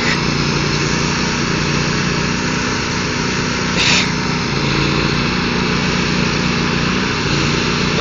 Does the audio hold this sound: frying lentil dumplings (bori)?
no